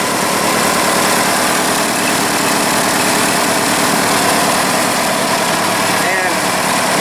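A 1982 third-generation Chevrolet Camaro engine, fed from a fuel cell, idles after its first start in 20 years with a loud, close, steady rumble and no break for the whole stretch.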